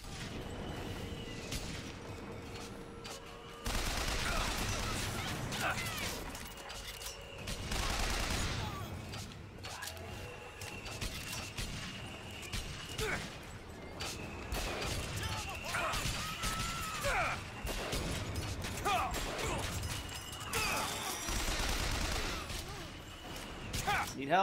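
In Bioshock Infinite, flak cannon fire and gunfight noise come in heavy, repeated bursts with crashes and shattering over game music, while a player talks through the action.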